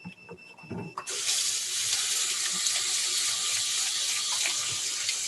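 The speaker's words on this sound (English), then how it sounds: "I'll wash my hands in warm water with soap for 20 seconds." Tap water running steadily into a sink as hands are washed with soap in warm water during kitchen prep, starting after a second of quieter handling noise and then holding a constant close, full splash.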